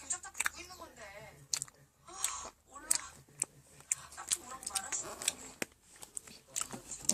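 Close, steady chewing of homemade donut-shaped jelly, with soft wet smacking and squishing in a fairly continuous rhythm broken by short pauses and small clicks, plus a few low murmurs.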